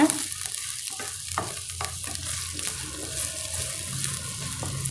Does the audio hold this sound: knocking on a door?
no